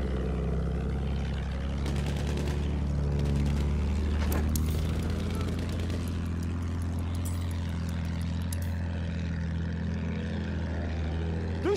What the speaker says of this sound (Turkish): Düşman bombardıman tayyaresi tam yukarıda.